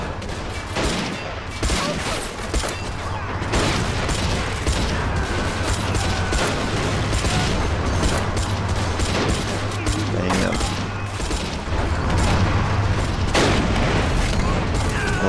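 Dense rifle and machine-gun fire crackles almost continuously from soldiers in the Men of War game, with heavy booms and a low rumble running through a busy battle soundscape.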